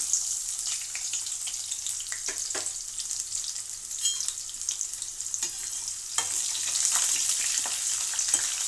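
Three cardamom pods and a large piece of onion fry in oil in a pan for tomato rice, giving a steady crackling sizzle with occasional stirring scrapes, close and moderately loud, with no talking.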